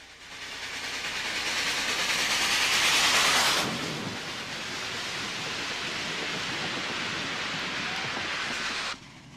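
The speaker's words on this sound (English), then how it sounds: "the steam-powered, streamlined New York Central Empire State Express rushes along the cliffs and through a tunnel" A model steam train, the streamlined New York Central Empire State Express on a layout railway, rushes along cliffs and into a tunnel with a steady broadband rumble and rush that swells, dips, and cuts off near the end.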